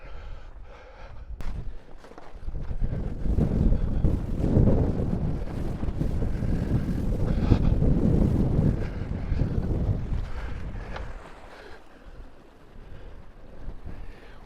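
Strong gusts batter the microphone on a windy homestead under a high wind warning, a loud, rough roar that swells and fades over several seconds with no talking.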